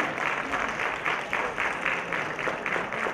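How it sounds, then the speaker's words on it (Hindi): An audience at an awards ceremony applauds steadily, a dense wash of clapping from a large crowd at moderate level throughout, with no voices standing out. "Please get your hands together."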